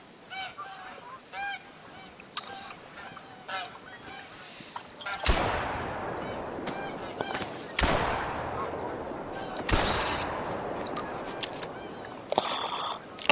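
Rifle shots ring out on a game reserve during a hunt, several sharp loud blasts a few seconds apart, each followed by a decaying tail, with outdoor ambience and distant bird calls between them.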